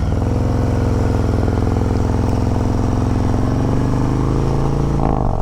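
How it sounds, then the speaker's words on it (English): A Harley-Davidson M8 Bagger fitted with an S&S Sidewinder 2-1 exhaust decelerating on a road, a loud, close, continuous low rumble with a throbbing, crackling burble that holds steady before a brief shift near the end. "the decel on this exhaust is actually the loudest part when you're"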